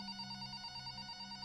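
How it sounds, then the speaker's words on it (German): A telephone rings in the horror game Follia Dear Father, a steady electronic ringing with sustained high tones holding evenly throughout, alone with no talk. "Telefon."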